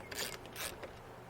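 Bracket bolts on a 2009+ F-150 rear seat release are loosened with a ratchet, giving two short bursts of quiet, close clicking.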